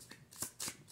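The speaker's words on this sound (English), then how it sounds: "you guys know I generally do not shuffle" Tarot cards shuffled in the hands, a few quick soft riffling bursts, close and quiet, with no voice over them.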